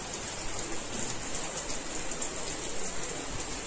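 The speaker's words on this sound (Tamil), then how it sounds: "இது வந்து செம்ம மழை" Heavy rain pours steadily outside a pharmacy and clinic in Annanagar, a dense, even hiss of drops close by and loud, continuous with no breaks and no voices.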